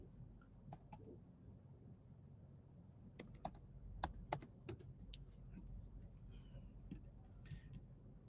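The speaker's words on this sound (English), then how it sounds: "Let me just type in Joshua." Keys tapping on a computer keyboard in irregular bursts, quiet and close, with faint background noise between clusters of keystrokes.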